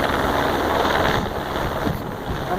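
Loud, steady rotor and engine roar of a county sheriff helicopter flying overhead near Redondo Beach, with wind buffeting the microphone and a slight fade as it passes.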